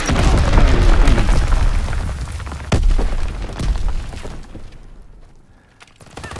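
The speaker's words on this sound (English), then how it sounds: "Enemy mortar fire incoming." Heavy booming mortar explosions from a video game battle, with several deep impacts in a row that fade into quiet rumbling.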